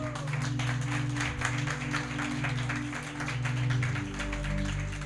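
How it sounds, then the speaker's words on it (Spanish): A church congregation applauds during a Saturday service, a steady run of many hands clapping for several seconds over sustained organ or keyboard tones, fading slightly near the end. "Dele un aplauso al Señor."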